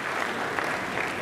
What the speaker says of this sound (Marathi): आणि त्यांच्यासाठी एकदा मनातून का टाळ्या वाजवा?